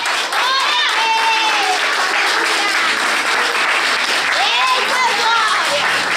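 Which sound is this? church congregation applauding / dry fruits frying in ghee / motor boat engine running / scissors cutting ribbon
church congregation applauding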